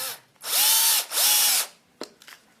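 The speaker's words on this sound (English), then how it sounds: "here with my battery powered drill" A battery-powered drill drives a small screw into a wooden picture frame in two sustained whirring bursts that rise and settle in pitch, followed by a few short clicks and taps, loud and close.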